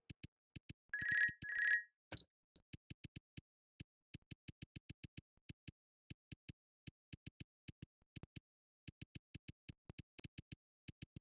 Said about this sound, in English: He's getting a phone call.